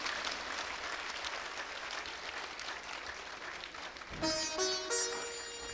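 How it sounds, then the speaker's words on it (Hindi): An audience at a spiritual satsang applauds steadily in welcome for Gurudev Sudhanshu Ji, a dense sustained clapping, before sustained musical tones cut in near the end. "जोरदार तालियों से गुरुदेव का स्वागत अभिनंदन करते हैं"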